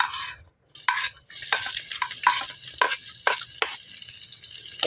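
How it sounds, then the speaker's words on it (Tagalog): Garlic sautéing in a pan, a bright hiss of frying broken by repeated scrapes and stirs of a spoon, close and fairly loud. "Tayo ngayon ay magigisa na."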